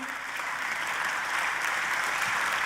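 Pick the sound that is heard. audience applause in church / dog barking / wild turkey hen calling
audience applause in church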